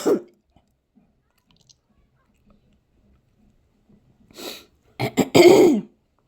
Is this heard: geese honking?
no